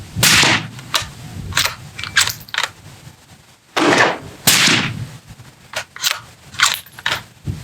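Suppressed gunshots from a firearm fitted with a Sandman L suppressor come as several sharp cracks spaced unevenly, fairly loud with mechanical clatter and ringing around them.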